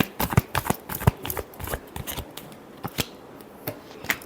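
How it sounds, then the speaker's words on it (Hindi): A deck of tarot cards is shuffled by hand, giving a rapid series of crisp riffles and slaps. The bursts are irregular, close and fairly loud, with no speech. "Last shuffle."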